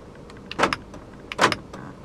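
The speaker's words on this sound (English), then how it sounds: "Central locking." Central locking on a 2008 Suzuki Swift Sport actuates twice, each a quick mechanical clunk-thunk of the door locks about a second apart, close and clear with no talking.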